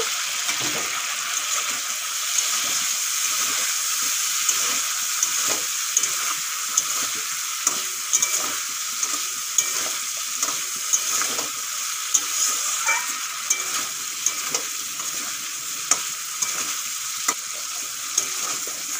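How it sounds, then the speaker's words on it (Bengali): Pre-fried potatoes being stirred through spiced masala in a pan, a continuous loud sizzle with frequent rhythmic spatula scrapes and taps, close and steady. "মশলা ভালো করে কষানো হয়ে গেছে, এখন ভেজে রাখা আলু দিয়ে দেব।"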